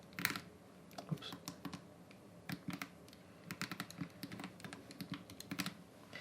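Fingers tap keys on a computer keyboard, entering numbers during a maths exam walkthrough, in short irregular bursts of soft close clicks with brief pauses, quiet and without speech.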